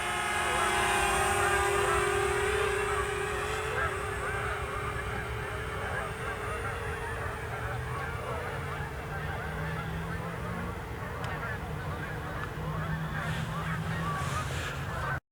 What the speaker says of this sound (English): boy, there's a bunch of geese up there